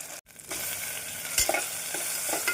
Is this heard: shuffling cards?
no